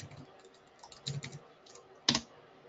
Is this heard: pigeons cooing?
no